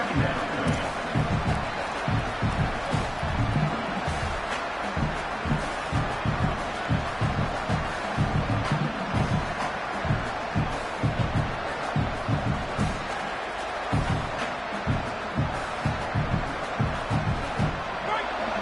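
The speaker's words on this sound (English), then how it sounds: "this crowd is fired up. Listen to this noise here." A fired-up crowd roars at a college football championship stadium, a loud, sustained din with rhythmic surges and pounding bursts, while a commentator speaks over the noise throughout.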